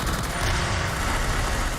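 Dense, continuous gunfire from the Black Ops video game, a loud sustained burst of overlapping shots with a heavy low-end rumble and no gaps, close and alone.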